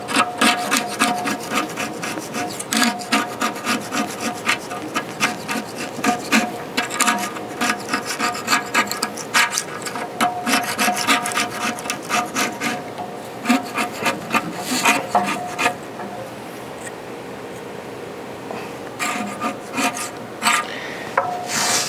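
A stuck rubber gasket being pulled and ripped off the lid of a kamado grill gives a steady run of close, rasping tears and scrapes with short pauses between pulls, and no talking.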